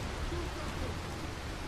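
Rain falls steadily in the video game Dying Light, a dense continuous hiss of drops on surfaces, fairly quiet and unbroken throughout.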